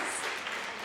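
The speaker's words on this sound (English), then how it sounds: "We must give the Honorable Writer today a big round of applause." Round of applause from an audience at a health and wellness expo, a steady dense wash of clapping throughout the short moment with no talk over it.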